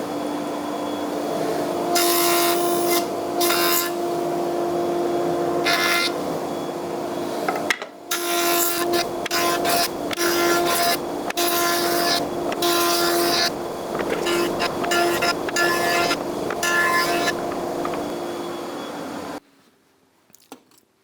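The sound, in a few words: spiral block planer machining timber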